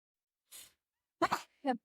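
A short breathy intake, then a sharp, close sneeze burst followed by a quick smaller vocal sound, all in near silence.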